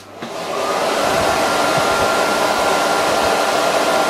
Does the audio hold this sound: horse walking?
no